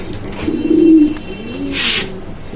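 A pair of grizzle German racer pigeons coo close by, a low throaty burbling call that swells and fades, with a soft rustle toward the end.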